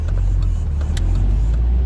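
Audi TT driving on the road, a steady low engine hum and tire rumble heard from inside the cabin with no voices.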